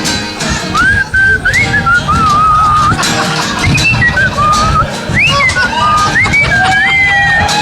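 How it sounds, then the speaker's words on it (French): A person whistles a wandering, bright melody in short rising and falling phrases, loud and close, over a murmuring crowd. "That's some great whistling!"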